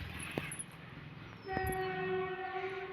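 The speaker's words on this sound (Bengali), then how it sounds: "ওই দেখো ট্রেনের আওয়াজ।" A distant train passes by a village on the edge of town, its low rumble rising midway as a horn sounds, faint and far off in the open air.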